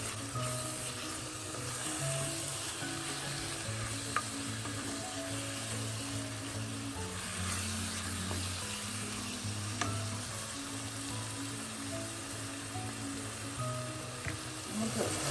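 Chicken biryani spices are stirred and frying in hot oil, giving a steady close sizzle with scraping stir sounds that continues without pause and no talking.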